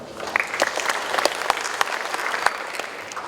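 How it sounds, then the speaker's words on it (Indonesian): Applause from an audience of regional heads and officials at a youth-friendly city programme launch in Bandung, Indonesia, a lively spread of individual claps with sharp accents, close and fairly loud, without speech. "Tepuk tangan"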